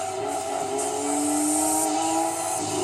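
A Nissan R390 race car engine in Gran Turismo 2 holds a loud, steady high-pitched whine at speed, its pitch sliding slightly as it revs on, with no talk over it.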